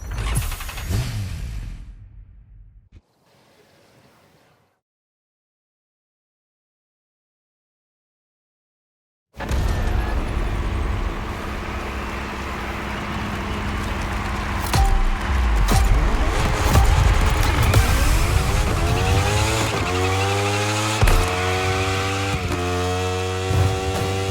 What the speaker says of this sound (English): Now, time to unleash the moto racing power.